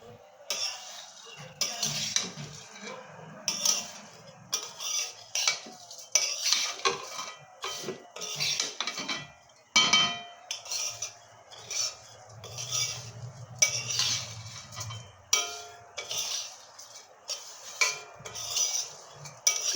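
Spoon scraping and stirring in a pan of frying ghee while making shrimoyee, repeated clinks and scrapes over a faint low sizzle, close and moderately quiet.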